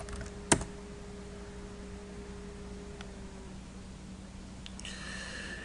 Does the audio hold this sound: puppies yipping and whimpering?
no